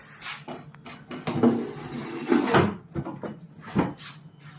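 A metal oven door opening and closing as a cheese chicken pizza goes into a hot street-food oven in Howrah, with several close clanks and knocks at irregular intervals.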